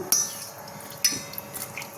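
Rava dosa batter is stirred in a vessel with a utensil, producing two distinct clinks of metal against the pot with softer scraping and tapping between them.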